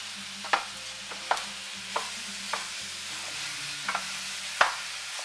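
Two pounds of ground beef browning in oil with soft chopped onions, a constant close sizzle broken by sharp spatula scrapes and clinks against the pan every second or so.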